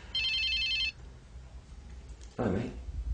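A mobile phone rings with a bright warbling electronic ringtone for under a second, followed by a short burst of sound from the handset nearby in a quiet room.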